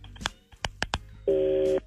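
Telephone keypad tones from a call-in on a radio show, four short beeps at uneven spacing followed by one longer steady dual tone. The tones are clear and close, with no talk over them.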